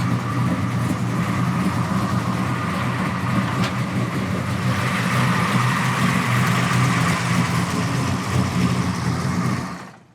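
A custom big block 454 V8 in a 1971 Chevelle SS idles with a deep, steady rumble, loud and close, running continuously without pause before cutting off at the end.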